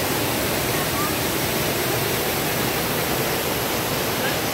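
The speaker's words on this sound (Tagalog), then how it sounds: "dito sa Lactas Falls" Laktas Falls waterfall, a steady loud rush of falling water, continuous broadband roar with no breaks, heard up close and alone.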